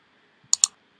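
Two quick, crisp computer mouse clicks in close succession, sharp and near, the second just after the first, against an otherwise quiet background.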